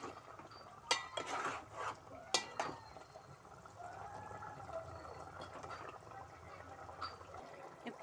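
Chicken curry is stirred in a pot, with scattered metal clinks and scraping of a spoon against the vessel over soft sizzling, with no voices.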